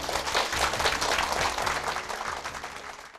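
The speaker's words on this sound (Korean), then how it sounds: "주님께 박수." Brief burst of audience clapping during a Korean English-grammar lecture, a dense wash of hands lasting about three seconds over a low background hum, then tapering off.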